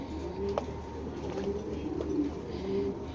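An Afsan grizzle hen, a foreign racing pigeon, coos in low repeated phrases close by, with a steady background hum and no talk.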